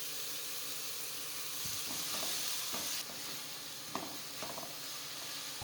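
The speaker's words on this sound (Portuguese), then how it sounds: "Depois de refogada a cebola, eu acrescento os 2 pimentões com a pimenta que eu havia" Onion and bell peppers sauté in a pan, giving a steady broadband sizzle with soft stirring scrapes and a few light knocks, heard close and without talk.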